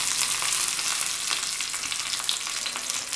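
Curry leaves fry in a little hot oil for mango pickle, giving a steady, hissing sizzle with scattered crackles that stays fairly even throughout, with no one talking.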